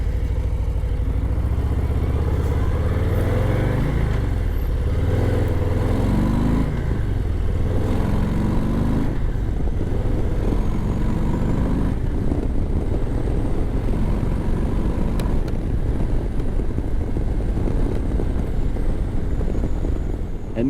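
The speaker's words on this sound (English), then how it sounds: "Now let's hear this stock exhaust." A Harley-Davidson Low Rider ST with its 117 engine and stock exhaust rumbles up close, rising and falling through several throttle blips with deep, throaty pulses, then settling into a steady, loud drone.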